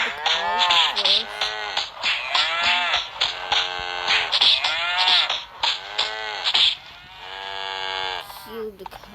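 Cows moo in a StarCraft II game, in a string of loud, drawn-out calls that overlap in quick succession. Faint game sounds run underneath.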